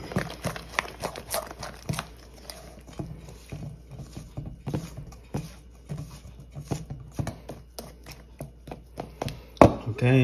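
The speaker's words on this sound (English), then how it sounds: "it's liquidy, but it's thickening up as I mix it" Keto eggnog donut batter being mixed in a bowl as the liquid thickens, giving a steady run of quick, close clicks and taps from the utensil with no talking.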